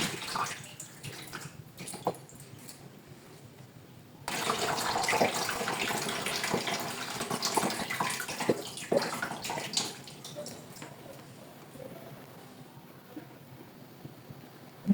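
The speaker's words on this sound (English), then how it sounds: "I'm just trying to drain some of the hibiscus leaf using my hand" Washed hibiscus leaves squeezed by hand over a bowl send water trickling and splashing down, a steady wet running sound that swells after a quieter start and continues with small drips and splatters.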